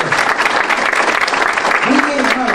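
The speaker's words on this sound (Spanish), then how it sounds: "Vamos a darle un aplauso a ellos, por favor." Congregation applause at a church gathering, a loud, continuous burst of clapping from a crowd filling the whole moment, with a voice heard through it near the end.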